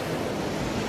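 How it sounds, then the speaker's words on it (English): Ocean waves washing onto a sandy beach in wintertime, a dense, steady hiss of surf with wind noise, close and fairly loud throughout the brief moment, no voices. "This is the beach."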